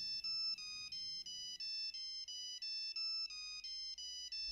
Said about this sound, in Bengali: তখনকার সব থেকে পপুলার মোবাইল ফোন নোকিয়ার ফোনেও এর রিংটোন দেওয়া ছিল